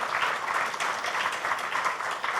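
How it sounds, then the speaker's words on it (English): An audience at an education company's entrepreneurship event applauds gentlemen on stage, a dense, even patter of many hands clapping steadily for the whole stretch. "A louder round of applause for these gentlemen"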